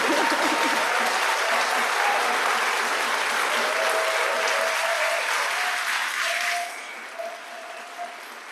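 An audience claps steadily at a church music service, loud sustained applause that fades and thins toward the end while a sustained piano-like tone rings underneath.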